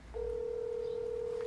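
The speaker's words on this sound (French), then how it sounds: "C'est un bon son de sonnerie." A telephone tone sounds as a single steady, unbroken electronic pitch that starts abruptly and holds, fairly loud and close, with no voices over it.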